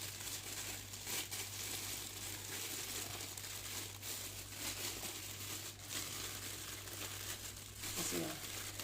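A plastic bag filled with homemade butter is crumpled and squeezed by hand, giving soft, quiet crinkling bursts with talking in the background.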